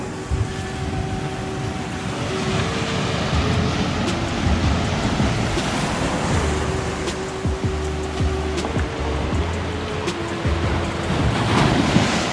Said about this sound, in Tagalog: Yung yan ang laki ng alon.